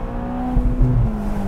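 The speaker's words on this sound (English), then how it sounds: "that I've actually really enjoyed driving. And the engine is so strong. This is the Roma engine." The twin-turbo V8 of a 2021 Ferrari Portofino M, shared with the Roma, pulls hard from inside the cabin, a steady low engine drone rising slightly in pitch over a second and a half with faint wind and road noise.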